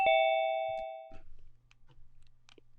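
A single bright notification ding rings out clearly at the start and fades over about a second, followed by quiet low clatter and faint background sounds.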